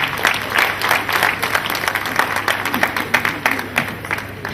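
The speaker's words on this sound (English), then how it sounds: "Please give a round of applause" Members at an association induction ceremony give a round of applause, a steady wash of clapping from a seated crowd over a low hum, sustained for several seconds at an even level.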